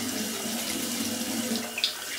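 Hot water runs steadily from a bathroom tap in Greece, set midway between hot and cold, a continuous close splashing hiss into a sink with one small clink near the end.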